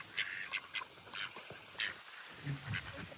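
Several ducks quack in short, rasping bursts, a loose irregular series of calls close by outdoors, with no one speaking over them.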